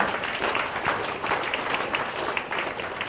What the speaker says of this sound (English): I want you guys to give a round of applause to the MDC folks again